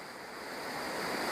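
Steady broadband rush of a waterfall outdoors, a continuous hiss-like roar that builds slightly in loudness, with no voices.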